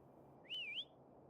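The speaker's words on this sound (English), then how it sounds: "Try whistling." A single short, rising and falling whistle calls a companion in the video game Wuthering Waves, clear and alone over faint background hum.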